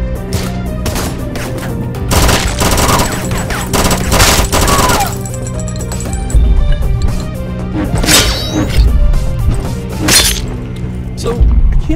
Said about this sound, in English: I'm getting shot a lot